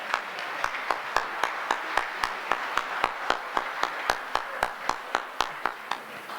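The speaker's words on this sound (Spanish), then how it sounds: "un fuerte aplauso para ellos" At a forum, an audience applauds in steady, evenly spaced claps at about three per second, moderately quiet and slightly distant, with no voices over it.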